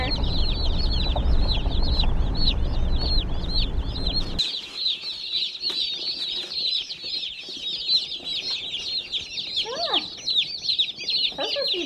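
Chickens and turkeys fresh from the hatchery, including Cornish cross chickens, cluck and chirp continuously throughout, loud and near, with a rumbling low background in the opening seconds.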